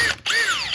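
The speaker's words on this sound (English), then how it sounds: "I got this wore out wire brush on my drill here" Power drill spinning a worn wire brush against bolt threads, a short whirring burst that cuts out briefly and then revs back up with rising and falling pitch, close and loud.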